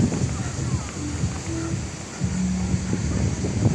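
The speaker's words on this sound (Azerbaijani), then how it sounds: "Dənizə baxın, necə küləkdir." Strong wind rushes and buffets the microphone on a windy seashore while sea waves wash in the background, a steady roaring blend with people talking over it.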